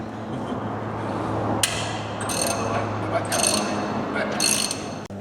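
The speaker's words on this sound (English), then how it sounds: "I used a 2-foot breaker bar on the socket" A two-foot breaker bar on a socket works loose the exhaust manifold bolts of an MR2, with ratcheting clicks and metallic knocks over a steady low hum, and a sharp clank near the end.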